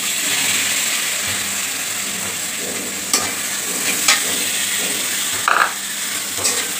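Chopped potato frying in a pan with turmeric and salt gives a steady, close sizzle and hiss, broken by a few brief scrapes and clinks of stirring.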